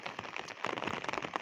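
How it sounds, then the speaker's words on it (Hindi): Night rain falling over a village and its flooded fields, a steady broadband patter with scattered louder drops, fairly close and continuous with no talk. "ये रात की बारिश हो रही है।"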